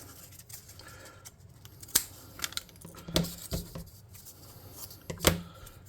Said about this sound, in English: We'll snip off that excess.